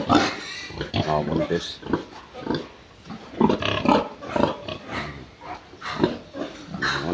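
Pigs in a piggery pen grunt and squeal loudly and close by, with a voice talking over the animals throughout.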